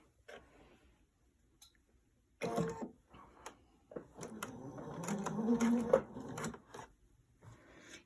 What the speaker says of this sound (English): I'm sewing up to the straight pin, removing it.